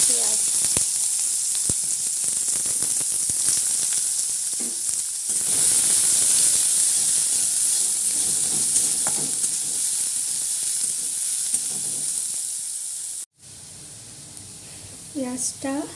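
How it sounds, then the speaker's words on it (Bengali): Chopped onions fry in oil, browning, with a loud constant hiss and occasional stirring crackles, briefly cut off near the end as someone speaks over the cooking. "পেঁয়াজটা হালকা লাল করে ভাজা হয়ে গেছে।"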